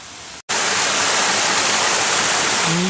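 A mountain river rushes loudly and steadily in the Hidaka Range of Hokkaido, a dense broadband roar of flowing water close by after a brief silent gap at the start.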